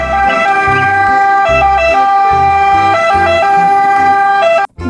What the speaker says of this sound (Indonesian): selanjutnya di sini ada mobil pemadam kebakaran